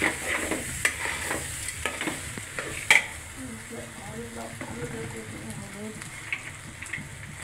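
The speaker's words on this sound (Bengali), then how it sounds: "চাল ডাল একসাথে ঢেলে দেবে, ভেজে নেবে সুন্দর করে।" Rice and lentils frying together in a pan for a home-style pulao, with a steady sizzle and repeated scraping stirs; faint background voices are heard underneath.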